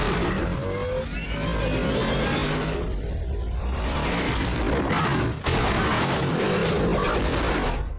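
A car engine revving loudly and close, a sustained roaring drone that swells and holds for several seconds with a brief dip partway through.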